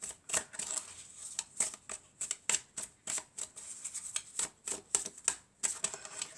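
Tarot cards being handled, drawn and laid out, heard as a run of soft, crisp flicks and snaps repeating at an uneven pace close by, with no talk over them.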